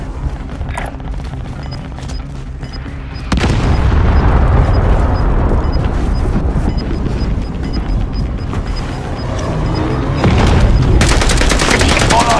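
Call of Duty gameplay with continuous heavy gunfire and explosions, a dense loud barrage that jumps in intensity partway through, with speech underneath.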